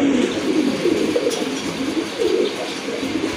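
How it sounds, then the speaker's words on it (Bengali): Bombay red pigeons coo in soft repeated rounds, close by, over a constant background hum with no talk. "এই যে দেখেন নট দেখেন মাশাআল্লাহ খুবই সুন্দর কবুতর"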